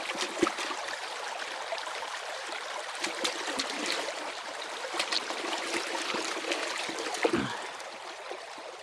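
Water is splashed through gold sluice matting with its riffles opened up, giving a continuous close trickling and splashing rush with scattered sharper splashes throughout.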